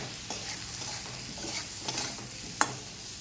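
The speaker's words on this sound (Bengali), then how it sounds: "ভালো করে মশলাটা কষিয়ে নেব।" A spice paste with turmeric is sautéed over a low gas flame, making a soft, steady sizzle. A spatula scrapes and taps the pan a few times, and one sharp knock stands out near the end. No voices are heard.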